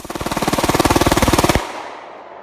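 Gun on full auto emptying an entire magazine in one rapid, even burst of about twenty-five shots, loud and close, then a ringing decay after the last round.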